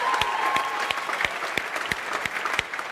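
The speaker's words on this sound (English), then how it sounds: "Give them a cheer," Live audience at the EA Sports FC 24 reveal event clapping in a room, a steady patter of applause with a few sharper claps standing out throughout.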